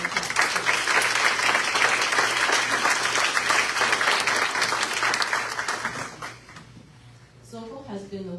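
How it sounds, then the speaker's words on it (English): An audience at a school board meeting gives a teacher assistant a round of applause. The clapping is loud and sustained, tapers off, and a voice starts speaking at the end. "Let's give Mr. Kadoreja a round of applause."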